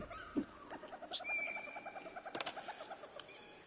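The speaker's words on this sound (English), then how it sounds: "Stanley flipped through one video of silly birds after another" Bird calls from silly bird videos in The Stanley Parable sound as a run of soft, rhythmic cooing notes with a few sharper chirps, fairly quiet and alone.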